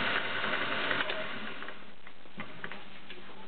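A vintage Singer 403A Slant-o-matic sewing machine running, a fast steady mechanical ticking and whirring close up, heavier at first and then lighter and more uneven, with no talking.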